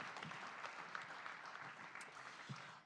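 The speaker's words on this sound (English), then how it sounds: "a round of applause one more time, ladies and gentlemen, for Auntie Susie Vereslam" A conference audience at an island regional forum applauds a speaker, giving a steady, moderately faint wash of clapping that continues evenly without any voices over it.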